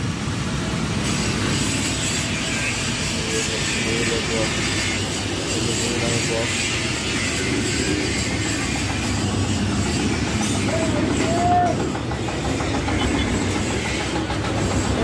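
A 40-horsepower harvester engine runs loud and close with a continuous rumbling drone, and a voice talks over it at times.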